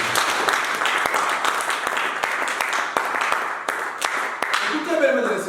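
A church congregation claps and applauds in praise, dense sustained clapping close and loud, with voices mixed in throughout.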